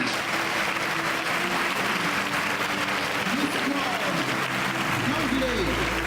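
An audience claps steadily for award winner Nicole Bandales at a school prize ceremony, a sustained, even wash of applause, with a low hum entering near the end.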